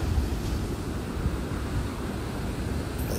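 Ocean surf breaks along a beach at Natal, heard from above as a continuous roaring wash of waves mixed with heavy wind buffeting.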